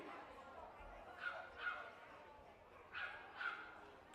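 A small Papillon, a silky-coated toy breed, on the judging table at a group show in Blackpool gives four short, yappy barks in two pairs, fairly faint over a murmuring hall with background voices.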